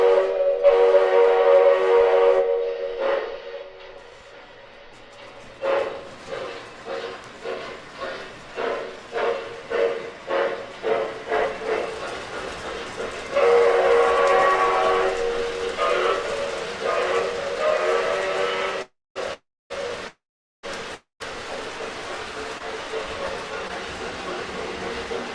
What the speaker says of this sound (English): We got some trains running today.